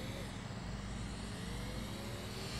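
Engine of a super car in the mobile game Free Fire, played on a Tecno Pova 2 phone, a steady low droning hum holding constant throughout with no voices.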